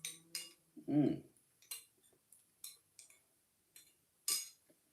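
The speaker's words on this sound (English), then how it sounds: "Got a few seconds whilst I grab my Aperol Spritz." Glasses and tableware clink in a few sharp, isolated taps while an Aperol Spritz is picked up, close and fairly quiet, with a short muffled bump between them in an otherwise quiet room.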